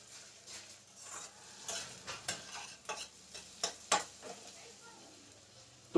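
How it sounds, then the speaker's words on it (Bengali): Capsicum shallow frying in a pan, a light sizzle under frequent stirring scrapes and sharp utensil taps against the pan that grow louder toward the end, close by. "এখানে ক্যাপসিকাম গুলো দিয়ে নেবো, যেটা হালকা স্যালো ফ্রাই হতে হবে।"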